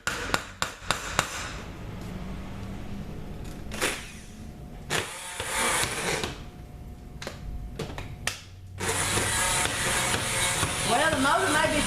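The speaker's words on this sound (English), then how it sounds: "the motor may be finally blowing up on this turn" A blender motor strains while mixing a batch of beer soap, starting in short choppy bursts, then whirring in longer surges that cut out and restart, loud and close, with a voice talking in places.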